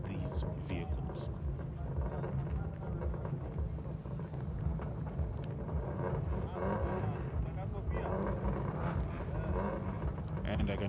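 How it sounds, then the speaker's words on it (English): Rallycross cars at a Kenyan motorsport event rev their engines before the start, a steady loud drone of engine noise filling the whole stretch. "They're revving up the engines."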